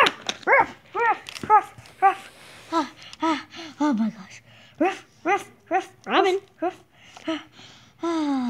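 A dog barks and yips in quick, close bursts, a steady run of sharp, pitched calls with short gaps between them.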